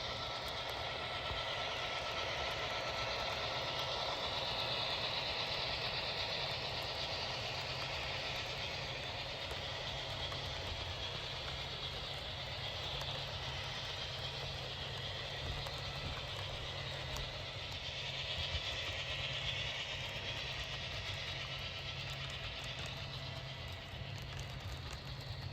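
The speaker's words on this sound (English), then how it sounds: "So now we're running 2 trains." Continuous whirring hum of small model trains running along track, steady and fairly quiet with a faint mechanical whine, no voices.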